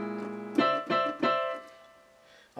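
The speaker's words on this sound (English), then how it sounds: "And sometimes you might hear him do those note clusters, so he might hit that." Three percussive piano note clusters are struck in quick succession, each ringing briefly before decaying into a quieter sustained tail, played solo and close.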